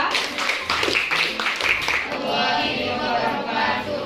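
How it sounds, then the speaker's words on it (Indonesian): Classroom applause for a student group at a junior high school, a dense patter of many hands clapping at moderate distance that fades slightly toward the end. "Oke, kita kasih aplaus untuk kelompok 2."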